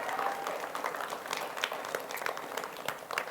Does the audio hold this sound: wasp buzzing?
no